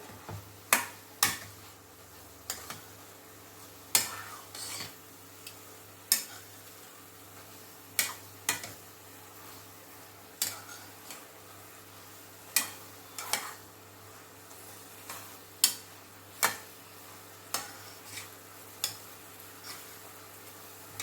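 Spoon stirring cardamom powder into a patholi stuffing in a pan on the stove: sharp, sparse scraping clicks at irregular intervals over a quiet background, no talk.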